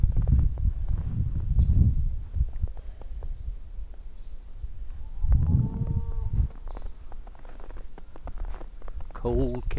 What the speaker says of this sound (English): Cold cows.